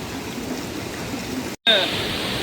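Steady rushing water pours continuously into a pot for cooking, filling the space with broadband splashing, briefly cut off near the end before the flow resumes louder.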